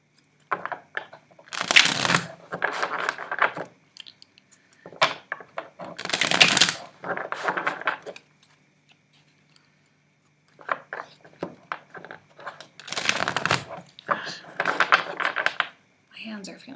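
Tarot cards are shuffled in repeated riffling bursts, close and crisp, with brief quiet gaps between rounds and occasional soft handling sounds.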